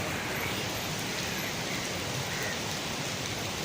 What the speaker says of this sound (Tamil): இப்போ நான் மலேசியாவில் இருக்கேன் செம்ம மழை